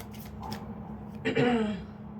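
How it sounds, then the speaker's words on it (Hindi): Tarot cards shuffled and drawn, a few quick riffling flicks early, then a louder burst of card handling near the end, close by with faint background noise. "2 कार्ड अभी लास्ट लूंगी मैं।"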